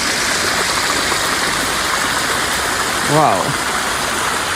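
A small, crystal-clear river in the Umbrian countryside flows with a steady, close rushing and babbling; one person briefly exclaims near the end.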